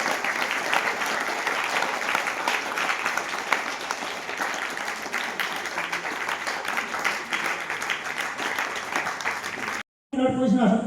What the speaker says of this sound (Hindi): सभी बच्चे जोरदार तालियों से स्वागत करें